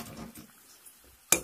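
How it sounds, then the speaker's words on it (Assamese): Maggi noodles are tipped into a kadai: faint handling rustles, then a single sharp clatter of the dry noodle block against the pan near the end. "এতিয়া মই এই মেগীখিনি এনেদৰে সেই কেৰাহীটোত এনেদৰে দি ল'ম"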